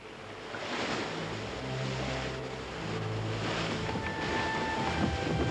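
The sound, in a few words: wind and waves at sea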